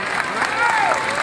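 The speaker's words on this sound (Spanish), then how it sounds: "Un aplauso para Jesús fuerte." A large outdoor crowd at a political rally in Barranca, La Guajira, claps and cheers in a continuous wash of sound, with a voice carrying over the noise.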